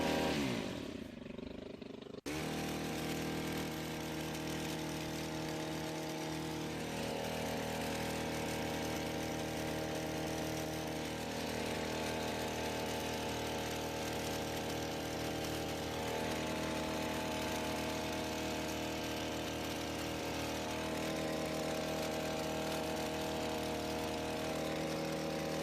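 A STIHL Combi hedge trimmer runs steadily, cutting a hedge above gravel, its motor buzz loud and continuous for the whole stretch after a brief quieter start.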